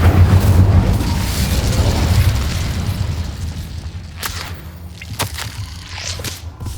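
An Incendiary fire spell in Hogwarts Legacy goes off as a loud roaring blast that fades into a crackling, rumbling burn. Sharp pops and snaps follow in the later seconds.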